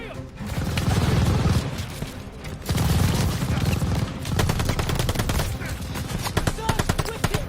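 Machine gun fire in the Call of Duty Vanguard video game, with rapid sustained bursts of automatic gunfire rattling loudly throughout, brief pauses between bursts, and heavy battle noise.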